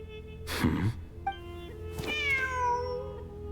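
A cat meows in Genshin Impact, a clear rising-falling call against steady game music, with a short rustling burst just before it.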